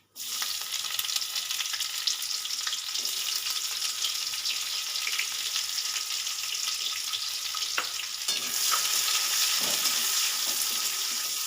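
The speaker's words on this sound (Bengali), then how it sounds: "তেলটা তো আমার গরম হয়ে গেছে দিয়ে দেবো ওই যে গোটা জিরে আর একটা শুকনো লঙ্কা ফোড়ন দিয়ে দেবো তেজপাতা আর দিয়ে দেবো পেঁয়াজ কুচি" Whole cumin, a dried red chilli, bay leaf and chopped onion sizzle in hot oil in a pan, a steady loud crackle with stirring and a brief clatter partway through.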